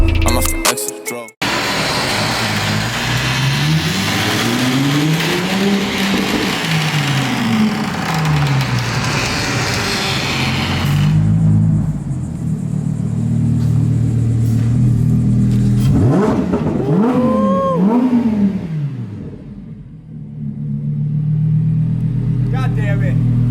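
A 2020 Lamborghini Huracan Evo revs hard while driving, its engine rising and falling through loud, close sweeps with sharp throttle blips. People talk over the engine noise.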